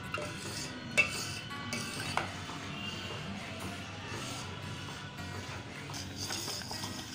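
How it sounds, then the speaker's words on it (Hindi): A spoon stirs kheer in a pot on the stove, soft scraping and a couple of faint clinks against the pot, close and quiet with a low background hum. "अब अच्छी तरह से मिलाएंगे, थोड़ी देर और पका लेंगे चीनी डाल के"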